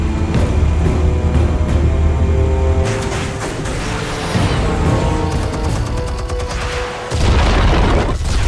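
Explosives detonating in Batman: The Telltale Series, loud booming blasts and rumbling debris layered over a continuous dense game soundtrack.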